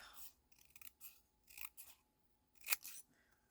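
Scissors cut a piece of card stock lengthways in several crisp, separate snips, close and clear against near silence, the loudest cut coming near the end.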